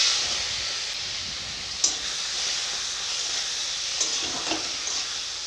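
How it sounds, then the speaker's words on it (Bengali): Shrimp coated in turmeric and salt fry in hot oil, giving a steady bright hiss with a few faint pops and crackles and no voices. "চিংড়ি মাছগুলো কেটে ভালো করে ধুয়ে হলুদ নুন মাখিয়েছি। এবারে ভালো করে ভেজে নেব।"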